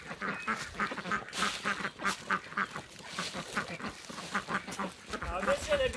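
Domestic ducks in a flock quacking steadily as backyard poultry are herded into their shelter, a dense, fairly close chorus of repeated calls with a person's voice mixed in.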